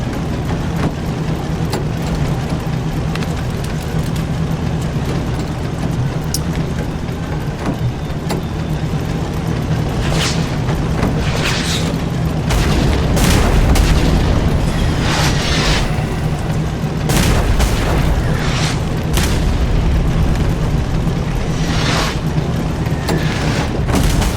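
Artillery strike landing near tanks in the Tank Squad game, a series of heavy booming explosions with deep rumbles over a constant engine drone, several blasts clustered in the latter half.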